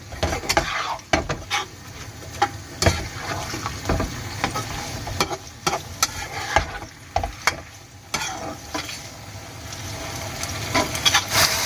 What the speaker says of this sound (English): Mix it all in. Let's cook it on a high heat.